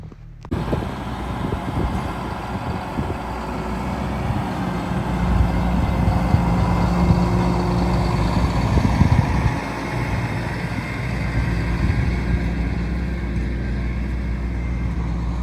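A tractor and a wood chipper run together during site clearance, starting abruptly and then holding a steady, close, rumbling drone for about fifteen seconds with no talk.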